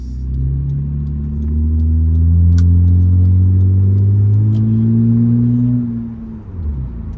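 Deep droning exhaust of a 2006 Acura TL with a 3.2 liter J32 V6 and a custom cutout valve, heard from inside the cabin, rising in pitch as the engine revs up, holding strong, then easing off near the end.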